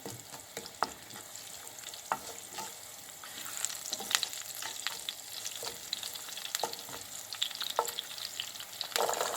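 Kale leaves fry in an Indian-style pan preparation, a soft, steady sizzle with scattered sharp clicks and pops from stirring, heard up close with no voices.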